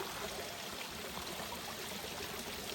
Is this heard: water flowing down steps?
yes